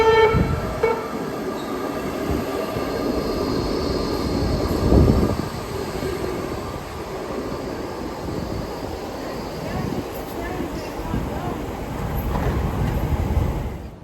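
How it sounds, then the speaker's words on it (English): Inside a Baltimore Metro subway train of old Budd rail cars, a continuous loud rumble and rattle of the ride with wheel and track noise, brief louder swells and a faint high whine throughout. "So we're on the train."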